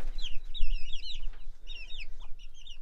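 Bantam chickens on an off-grid homestead in rural South Africa give several bursts of high, chirpy clucking calls, close by and fairly clear over a low background rumble.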